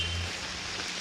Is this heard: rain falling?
yes